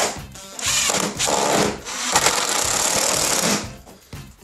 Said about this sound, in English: And then I'll take another screw and put it in this side.